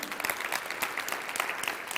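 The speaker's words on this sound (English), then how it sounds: "if you can clap for him again" Audience applause for a guest at an author event, a faint but steady patter of many hands clapping, heard at some distance without voices on top.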